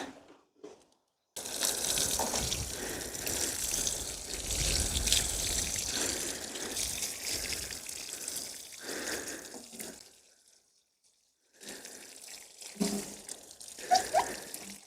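Water poured onto seedlings in a garden plot, a close trickling and splashing stream lasting several seconds, a pause, then shorter irregular pours.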